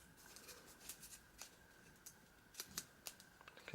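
Scissors cutting paper edges for a Christmas craft: a quiet series of close, irregular crisp snips and clicks, with no talking.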